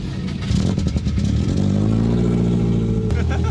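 A stock-motor Subaru STI cranks with a rapid clatter, catches and settles into a loud, lumpy idle close by, with a brief blip near the end.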